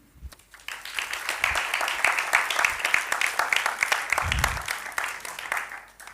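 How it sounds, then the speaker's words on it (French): Audience at a couples seminar in Abidjan applauding a speaker, rising from a few scattered claps into sustained, rhythmic crowd clapping that stays moderately loud throughout, with a brief low thump midway. "Et cela s'applaudit."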